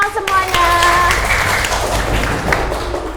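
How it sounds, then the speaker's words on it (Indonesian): A primary school class applauding together, a dense burst of close hand claps under children's voices, fairly loud and sustained for a few seconds. "tepuk tangan semuanya"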